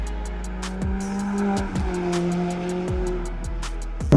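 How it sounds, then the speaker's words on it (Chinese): McLaren 570S turbocharged engine and exhaust, close and loud, rising through repeated rev pulses that drop and climb again in a steady cycle, with a sharp burst at the very end. "我觉得这个引擎的排气声音是很好听的"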